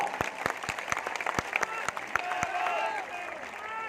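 Crowd at an outdoor political rally in Bhaliana, Sri Muktsar Sahib, Punjab bursts into loud, sustained applause, dense clapping running throughout with sharper individual claps standing out and some whistling audible.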